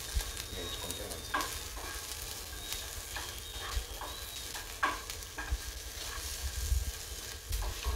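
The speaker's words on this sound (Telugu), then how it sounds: "మిరపకాయలు నల్లగా కాకుండా మరీ నీళ్ళ కాకుండా వేసుకుంటే మంచిది." Chillies fry in hot oil with a steady, close sizzle and occasional scraping stir strokes throughout, with no one speaking.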